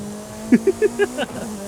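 A BAC Mono sports car with a 2.3-litre naturally aspirated four-cylinder Ford engine hums at a steady idle in Forza Horizon 5, broken by a quick series of short throttle blips.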